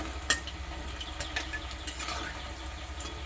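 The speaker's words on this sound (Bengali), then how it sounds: "পকোড়াগুলোকে আরেকবার উল্টে পাল্টে দিয়ে" Chicken pakoras fry in hot oil with a steady close sizzle, broken by a few sharp clinks and scrapes as the pieces are turned over, with no voices.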